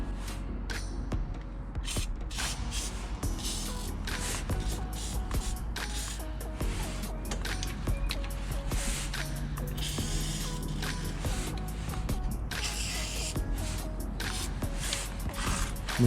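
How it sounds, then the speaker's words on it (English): Several short hissing bursts of WD-40 are sprayed at intervals during a BMW 335i downpipe install, over a constant low mechanical drone. "Now I'm gonna spray these with WD-40."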